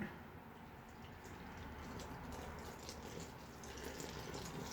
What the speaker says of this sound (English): We're going to add about 200 grams of water. Just tap water.